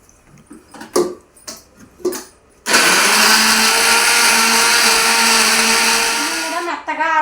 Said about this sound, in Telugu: మిక్సీ ఆడుతున్నాను